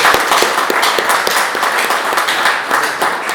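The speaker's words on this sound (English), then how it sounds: "Let's give a round of applause to Susan Collins" An audience applauds a senator at a political rally, a steady, dense crackle of clapping hands that carries on for several seconds with no speech over it.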